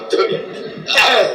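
Coughing during an Islamic religious study session: a brief throat-clearing cough near the start, then a louder, harsher cough burst in the second half, heard close with a faint voice in the background.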